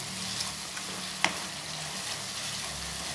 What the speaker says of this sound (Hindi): अब मैं ये मसाला अच्छी तरह भून लूँगी।